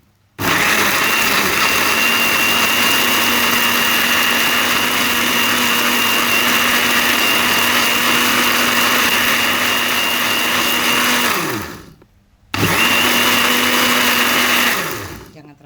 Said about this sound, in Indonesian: Oke, ini udah selesai kita blender.